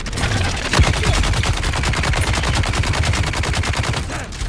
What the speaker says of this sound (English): Maybe the collapse grenade will work here.